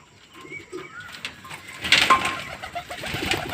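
Pigeons coo softly, then wings flutter and flap as birds take off, growing louder toward the end, with faint background noise.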